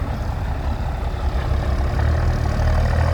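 A large New Holland tractor engine runs steadily with a deep, continuous low rumble, close and loud throughout, while clearing termite mounds and pulling trees alongside another tractor.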